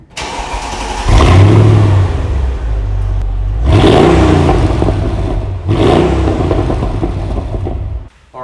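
Mercedes CL55 AMG with a 2.75-inch four-cat dual exhaust, revving hard in three long loud bursts with deep rumble settling between them, recorded up close with no voices.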